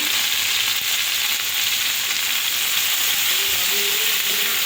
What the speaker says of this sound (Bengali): এখানে অলিভ অয়েল তেল বসিয়ে রাখছি, তেলের মধ্যে এটা ভেজে নিব